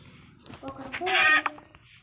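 A Minecraft chicken gives a short, close run of high, sharp clucks under a person talking.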